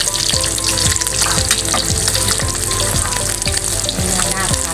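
Fish frying in a pan crackle with a loud, dense, continuous sizzle close up, with faint rhythmic scraping of stirring under the spatter.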